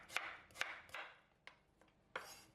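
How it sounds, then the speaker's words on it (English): A knife slices yellow onion on a cutting board in about six separate crisp, quiet cuts at an uneven pace, close and isolated against near silence. "slice 240 grams of yellow onion"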